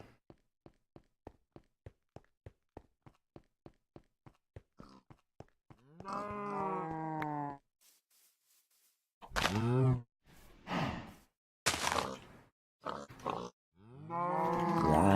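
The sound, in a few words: cow from the video game Minecraft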